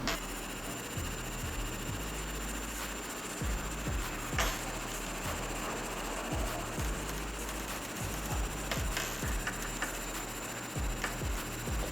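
A budget 3D printing pen extruding filament gives a faint, regular mechanical ticking at low volume over a quiet background hiss.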